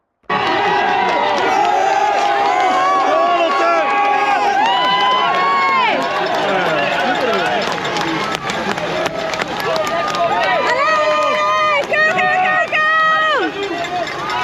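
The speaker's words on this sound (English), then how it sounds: "It's basically just endless footage of me cheering on every single rider" Spectators at the Tour of Flanders cycling race cheer riders on, with loud, sustained shouting and whooping voices throughout, close by and dense, rising and falling in bursts.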